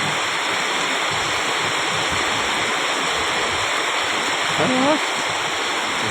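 Heavy rain in Pattaya sends water flowing across the street, making a dense, steady rushing roar throughout. A brief voice-like sound rises near the end.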